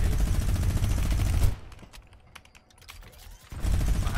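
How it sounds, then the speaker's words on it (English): Rapid Fortnite gunfire rattles in dense bursts for about a second and a half, then drops to quieter clicks and scattered shots before another loud volley starts near the end. "I'm getting shot."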